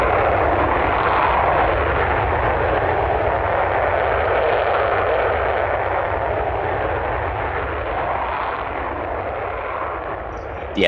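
Roaring jet engine of an F-35A fighter in a Roblox flight game, a loud continuous broadband rumble held steady throughout, with a brief click at the very end.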